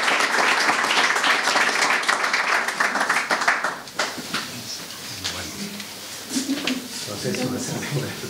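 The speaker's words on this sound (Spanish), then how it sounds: "acompañamos esta bienvenida, por favor, con un aplauso" Audience applause at the opening of a conference marking 30 years since the reform of the National Constitution, a dense burst of clapping that fades after about four seconds into room murmur and scattered voices.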